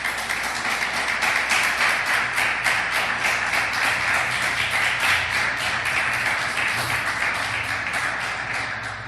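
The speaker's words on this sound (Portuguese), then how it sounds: "Aplauda Jesus de Nazaré." A church congregation applauds steadily, with dense rhythmic clapping that sometimes falls into unison beats over a low room hum and keeps going throughout, fading slightly at the end.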